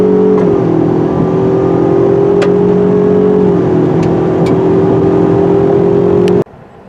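Engine drone from a 2020 Ford Ranger 4x4 with the EcoBoost turbo four-cylinder on pavement, a steady loud hum that dips and resettles as it shifts, then cuts off abruptly.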